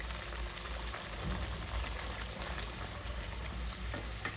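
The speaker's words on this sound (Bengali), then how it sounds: "এভাবে আমি তেলের মধ্যে ভাটুরাটা ছেড়ে দিলাম।" Bhatura dough frying in hot oil, a constant close bubbling and crackling sizzle that stays steady throughout.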